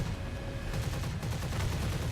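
Cannon fire from a Me 262 A-2a jet fighter in a combat flight game comes as a dense, continuous rattling burst over a heavy, roaring low rumble of engine and battle noise, loud and unbroken throughout, with no talking.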